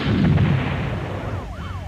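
Rapid gunfire and explosive blasts from the PlayStation shooter Maximum Force, loud and dense at first, then settling into a continuous rumble with a swooping electronic tone near the end.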